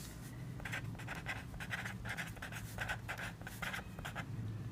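Pen scratching out handwriting during a class 6 math lesson on counting cubes, short quiet bursts of rhythmic strokes with pauses between words, faint and alone.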